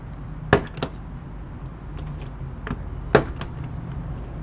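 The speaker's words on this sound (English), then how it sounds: "just kind of pry these out. And they're just going to pop out on the door." Plastic trim clips pop free from a 2008-or-later Subaru Impreza door panel as it is pried off, giving a few sharp snaps in two pairs, close and distinct against a quiet background.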